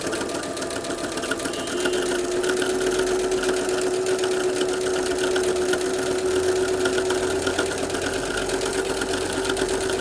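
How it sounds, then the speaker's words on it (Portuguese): Sewing machine topstitching along the edge of a placemat, a steady whirring motor hum with rapid needle chatter, running continuously and close after a brief quieter start. "vamos passar o pesponto na borda toda"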